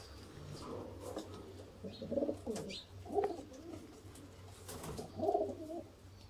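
Blue-tailed pigeons coo in a kabootar bazi loft in Sialkot. Several soft, throaty coos and warbles rise and fall close by over a low, steady hum, with faint chirps.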